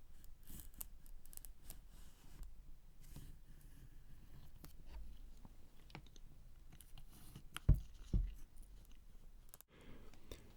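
Scissors snip through the cardboard packaging of an RME Babyface Pro FS audio interface, mostly soft quiet cutting and rustling, then a couple of louder sharp snips near the end.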